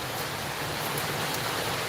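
Steady rain falls during a rainy holiday with cats playing indoors, a continuous soft hiss of close, even downpour with no talk over it.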